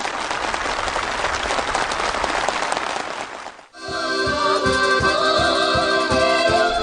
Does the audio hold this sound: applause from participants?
yes